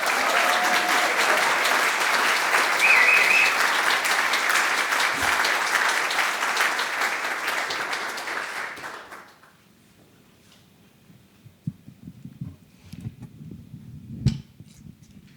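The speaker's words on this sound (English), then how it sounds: "Please give some applause to Hilary Borndahl" Audience applause at a corporate event fills the first nine seconds, dense and loud, then fades out, leaving quiet room noise with scattered faint knocks and brief sounds.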